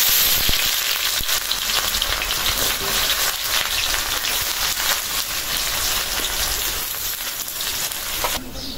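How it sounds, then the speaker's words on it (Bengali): Sliced onions sizzle and crackle steadily in hot oil in a wok, made into crisp fried onion for a village home dinner, a loud continuous frying hiss that holds throughout. "তেলটা গরম হয়ে গেছে, পেঁয়াজ বেরেস্তা করার জন্য দিয়ে দিই।"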